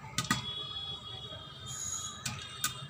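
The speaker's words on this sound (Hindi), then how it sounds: "ये अच्छे से पॉप हो रहा है।" Popcorn popping in a covered pan on a home stove, heard as a few sharp, quiet pops scattered over a low background hiss.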